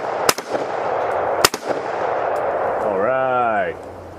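Two sharp, loud rifle shots from a Ruger Mini 14 fired at steel targets on an outdoor range, spaced about a second apart over steady background noise, followed by a brief rising tonal sound.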